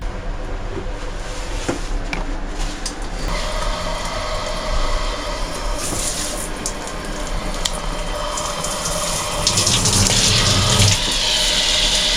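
A handheld shower runs steadily in a small cruise ship inside-cabin bathroom on the Carnival Horizon, a loud continuous hiss of spraying water with slight shifts as the spray moves.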